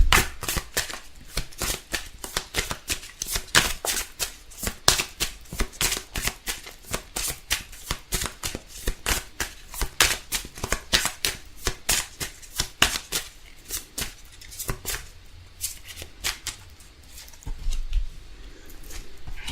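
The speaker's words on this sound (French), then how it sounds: "On va prendre quelques cartes" Tarot cards are shuffled continuously for about twenty seconds, close and crisp, as a rapid, rhythmic train of riffling slaps and flutters with no talking.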